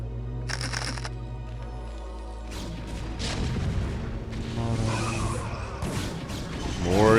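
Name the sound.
siege tanks firing on Zealots in StarCraft Brood War video game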